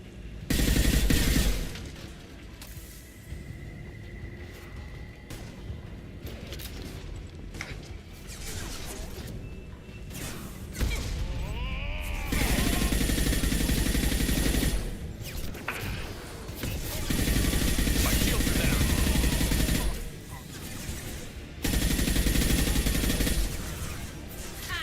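Gunfire in the Mass Effect video game, with bursts of shots and crashing impacts coming in loud, dense waves, broken by brief quieter gaps, with a faint voice now and then.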